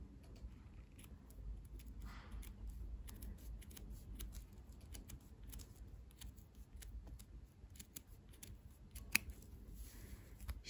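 Scissors snipping around a paper shape with ear flaps, a steady run of small crisp cuts close by, quiet and alone.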